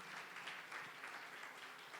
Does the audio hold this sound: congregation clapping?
yes